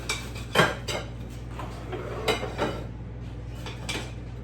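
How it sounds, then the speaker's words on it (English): A knife slices through cooked food on a plate for a Jamaican breakfast dish, a few distinct clinks and scrapes of metal on crockery spaced over a low steady hum, without talk. "So here I will go ahead. I will slice."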